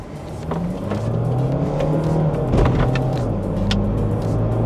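A BMW X3 xDrive20d diesel SUV with all-wheel drive and a Steptronic gearbox accelerates hard in sport mode on an empty road, its engine note rising steadily and loud from inside the cabin, with shifts audible and no talking.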